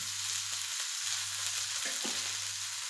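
Mackerel (bangude) shallow-frying in a little oil on a tava makes a continuous bright, hissing sizzle, close and even throughout, with a low steady hum beneath and a couple of soft knocks near the end.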